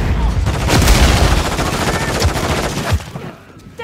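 Dense automatic gunfire rattles continuously in a Modern Warfare III multiplayer firefight, loud and close, with bursts overlapping for several seconds before easing off, while voices call out underneath.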